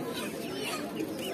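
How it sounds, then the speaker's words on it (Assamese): Chickens at a busy poultry market section of a large Assamese bazaar cluck and mutter faintly amid a dense, noisy background of market chatter and bustle. "এয়া আমি মুৰ্গীৰ বজাৰ আহি পালোহি।"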